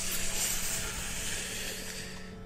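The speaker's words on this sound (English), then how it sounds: "That was the sound of Napoleon Bonaparte sucking on a vape" A vape being drawn on, a steady soft breathy hiss lasting a couple of seconds and gradually tapering off, faint and with no talking.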